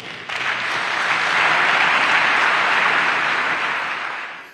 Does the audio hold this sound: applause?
yes